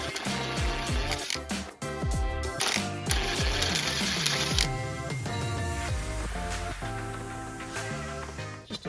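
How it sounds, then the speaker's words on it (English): A 19mm wrench ratchets on a 17-year-old rusty, corroded rear shock bolt of a Honda Pilot, giving a continuous run of quick clicking and mechanical clatter, loud and close, with no talk. "I got a 19mm wrench on the back."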